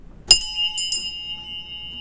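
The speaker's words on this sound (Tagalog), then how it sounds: "Bakit mahinang kalimbang ng kampana natin, Tony Lopez?" Single clear bell strike on a Philippine radio broadcast, a bright metallic ding that rings on with a sustained, slowly fading tone, followed by two lighter chimes, with no talk.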